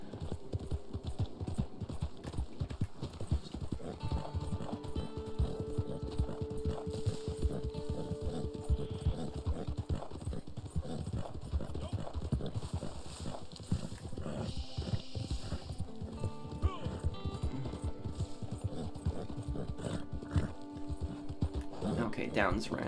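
Horse hooves clip-clopping in a steady galloping rhythm while riding in the Red Dead Online video game, continuous throughout, with someone talking over much of it.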